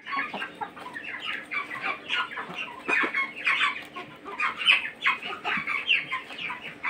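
A hen on a small egg-laying farm clucks close up, with continuous rapid, chattering calls rising and falling steadily and no talk over them.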